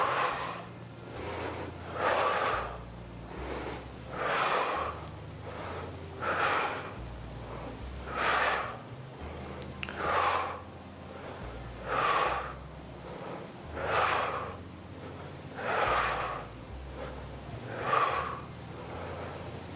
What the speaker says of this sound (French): On inspire quand on revient et on souffle quand on monte.